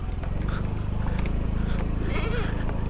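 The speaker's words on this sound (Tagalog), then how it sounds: "may mga kambing" Goats bleating on a rural roadside, several animals calling in short wavering cries over a steady engine hum from a scooter, with someone talking throughout.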